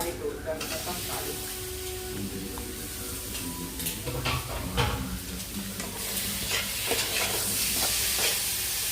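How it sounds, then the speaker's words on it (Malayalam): Prawns fry in a pan with tomato added. A continuous close hiss and sizzle carries clattering stir scrapes, and faint voices can be heard in the background. "ചെമ്മീൻ ഒരു ട്രിപ്പും കൂടി ഉണ്ട് കേട്ടോ വറുത്ത് കഴിയാൻ."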